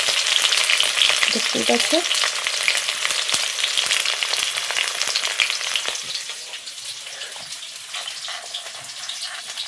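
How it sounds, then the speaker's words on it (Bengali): Onions fry with bay leaves in oil for a village-style mutton curry, producing a loud, continuous close sizzle with stirring scrapes that softens slightly over time; a voice speaks briefly. "আর এখানে পেঁয়াজ দিয়ে দিচ্ছি"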